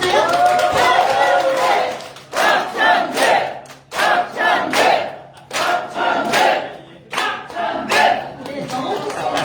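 Party members at a Democratic Party meeting room in Jeju cheer and chant for candidate Park Chan-dae, loud rhythmic crowd shouts rising and falling in repeated bursts close by.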